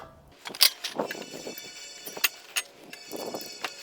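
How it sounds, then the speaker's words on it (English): Screws are driven into an aluminum handrail baluster, giving a short series of close, sharp clicks and ratcheting ticks from the tool. "Now we got to screw this on."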